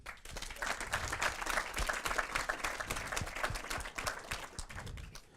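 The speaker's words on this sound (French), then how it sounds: "Vous pouvez les applaudir." An audience at a Paris.rb Ruby meetup applauds the technical team, a dense, lively burst of clapping that holds steady and then tapers slightly near the end, heard close up.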